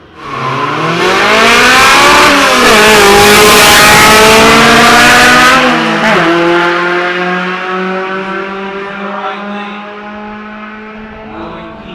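Drag racing car accelerating hard down the track at a qualifying event, a loud rising engine howl climbing through the gears for several seconds, then fading as it pulls away.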